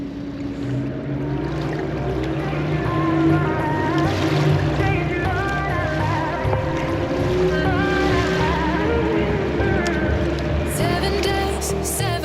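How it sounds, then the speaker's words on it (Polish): A barge moving on water in fog, heard as a steady low engine drone with wind and lapping water, continuous and moderately loud throughout, with faint higher sounds near the end. "Tam płynie barka."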